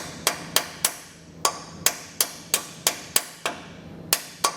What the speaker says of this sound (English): Sometimes you can take a hammer